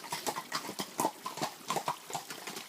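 Horse hooves clip-clop steadily past at close range, a brisk run of sharp, evenly spaced strikes on a hard surface with no voices over them.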